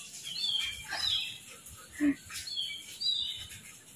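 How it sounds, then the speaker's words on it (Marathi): Sparrows chirp on a terrace, faint high tweets repeating every second or so over a quiet background hum. "चिमण्या ओरडत आहेत."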